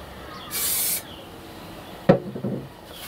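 Spray applied while insulating a van wall, heard as a close, loud hiss lasting about half a second, followed later by a sharp knock and brief scraping handling noises.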